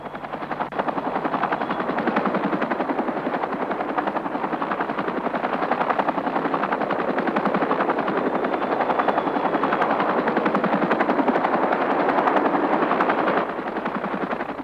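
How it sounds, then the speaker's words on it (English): Apache attack helicopter in combat over a tank convoy, rotor roar sustained and loud with rapid chain gun bursts blended into the continuous din, no voices. "A convoy of tanks and other vehicles provided a sitting target for Apache helicopters."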